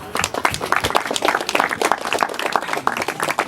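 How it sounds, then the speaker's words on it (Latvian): A small group claps in applause at a football press conference for a 2:1 match, steady dense clapping throughout at close range. "Aplaus jums!"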